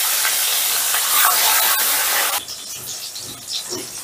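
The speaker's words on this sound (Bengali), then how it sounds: "এবারে বাকি টুকরো দুটো একইভাবে ভেজে নিচ্ছি।" Fish head pieces frying in hot oil give a loud, bright hissing sizzle for about two seconds, then cut to quieter, scattered crackles and soft background noise.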